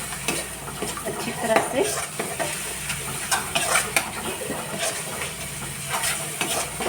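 Raw banana pieces are stir-fried in a pan for kele ki sabji. A spoon scrapes and stirs against the metal while a soft sizzle runs underneath, and someone speaks briefly over it.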